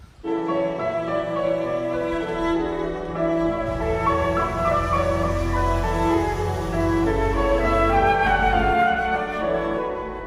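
Chamber music played by a flute, violin and piano trio, sustained melodic lines over steady accompaniment, full and continuous without pauses.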